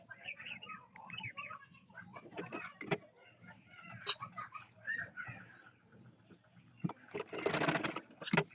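A domestic sewing machine stitches a seam on a baby dress made of single-colour gauze fabric. The machine is quiet and intermittent, with a louder burst near the end, and faint background sounds and soft voices around it.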